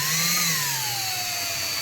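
A power drill boring with a 135-degree drill bit, a steady close whine whose pitch sags slightly and then holds, continuous and loud throughout with no talking.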